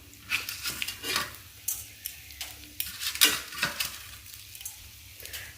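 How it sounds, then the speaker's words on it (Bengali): Vermicelli frying in a pan for a Bengali sweet dish, a steady sizzle under repeated stirring scrapes and clinks of a utensil against the pan, close and fairly loud throughout. "এখানে এবারে সিমইটা ভাজবো"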